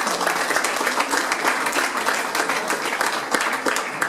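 Audience applause at a gourmet trail food event: dense, steady clapping from many hands that carries on without a break for about four seconds, fairly close and with no voices over it.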